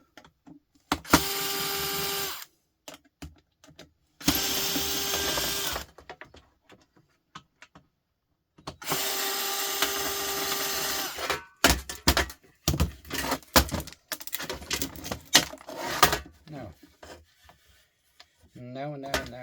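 Screws are backed out during an electronics teardown, with three long bursts of rasping, grinding noise separated by pauses, followed by shorter scraping and clicking handling sounds, all fairly close.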